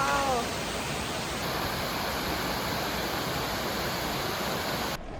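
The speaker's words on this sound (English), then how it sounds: "Look at this waterfall!" Shintaki waterfall in Japan's Kiso Valley pours with a steady broadband rush of falling water, continuous and fairly close, cut off abruptly near the end.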